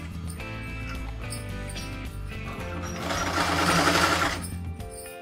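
A sewing machine stitches a khajoori salwar with a rapid mechanical chatter that runs steadily and then swells louder near the end before easing off.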